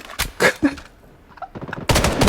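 Gunfire at a cabinet in the shooter game Blood Strike: quick loud bursts of automatic shots near the start, a short quieter gap, then a dense sustained volley at the end.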